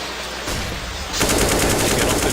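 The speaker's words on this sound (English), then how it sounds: "He's going to use every bullet of that AK." Sustained AK rifle fire in a professional Counter-Strike match, heard as a rapid, loud burst of automatic gunshots. The firing intensifies halfway through and continues, with faint commentary beneath it.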